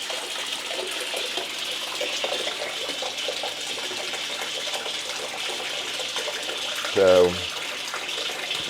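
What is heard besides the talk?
water running from camping faucet with water pump on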